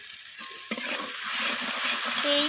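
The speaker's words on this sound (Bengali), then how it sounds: "এইভাবে মশলাটাকে ভালোভাবে কষিয়ে নিতে হবে" Fish curry masala sautéed in mustard oil, a close, steady sizzle and frying hiss that builds slightly as a spoon stirs through it, with a brief scrape near the start.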